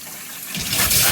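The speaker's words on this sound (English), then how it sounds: "It'll just blow out the water inside the tankless." Water and air gushing out of a tankless water heater through an opened valve during a plumbing flush, a hissing rush that builds louder toward the end with no talk.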